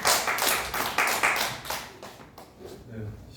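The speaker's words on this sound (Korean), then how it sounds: "두 분 박수 한번 부탁드립니다" Audience applause at a Korean work-skills training session, a burst of hand clapping that starts loud and gradually thins out and fades over a few seconds.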